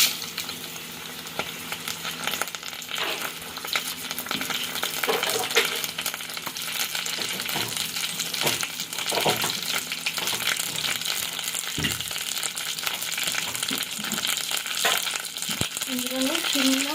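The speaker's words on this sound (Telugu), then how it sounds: "పోపు దినుసులు వేస్తున్నానండి" Garlic cloves, dried red chilies and tempering spices sizzle and crackle steadily in hot oil, a close, continuous frying hiss with occasional stirring clinks and pops.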